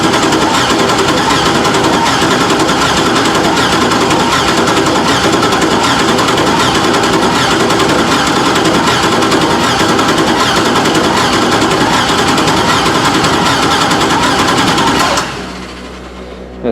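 Engine cranking over during a compression test, a fast, steady, rhythmic chugging from the starter that runs loud and close for about fifteen seconds, then stops abruptly.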